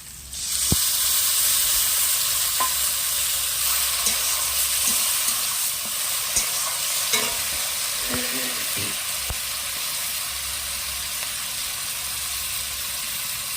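Bay leaf and tomato paste hit hot oil in a pan for prawn malai curry, giving a loud, steady sizzling hiss up close, broken by a few light clinks and stirring scrapes.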